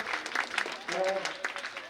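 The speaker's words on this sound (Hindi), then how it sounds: "स्वागत होने में तो ताली बजाओ भाई।" Clapping from an audience at a Nishad community Guha Jayanti celebration in Amlidih, a fairly soft patter of hands mixed with speaking voices throughout.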